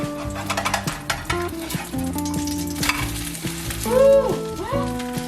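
Chive and shrimp pancake frying in a pan, a close, loud crackling sizzle with scraping spatula strokes and a brief clatter of utensils, no voices.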